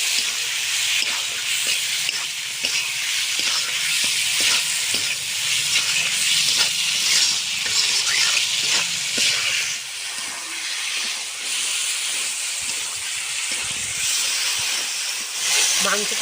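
Meat sizzles steadily in a hot pan as it is stir-fried for village-style Bengali ghugni with green peas, a loud continuous hiss with occasional stirring scrapes throughout.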